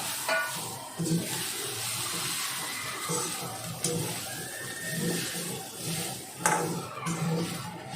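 An onion and coconut masala paste, Malvani style, sautéing in a pan on the stove, giving a steady soft sizzle and hiss with occasional stirring scrapes and clinks at moderate volume.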